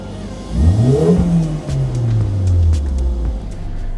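Mercedes-AMG GLA 45 engine revving up once and then easing back down, a loud close rising and falling tone with no talking.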